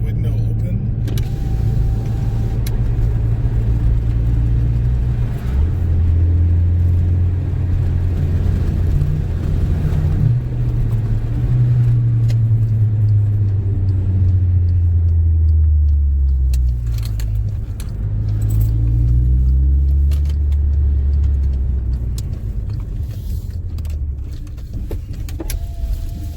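A VW MK6 Jetta with a muffler delete idles after a cold start, its loud low exhaust rumble steady and droning, with idle pitch shifts partway through, heard as if through an open window.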